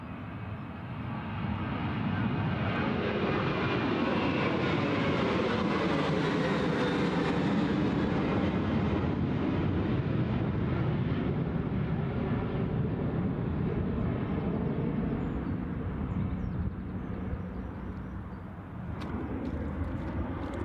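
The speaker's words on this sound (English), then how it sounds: "I know EasyJet are somewhere on the taxiway. Ah, there they go." An EasyJet airliner moves along the taxiway at Newcastle International Airport, a loud sustained jet engine roar that swells, holds for a long stretch, then eases slightly near the end, with no talking.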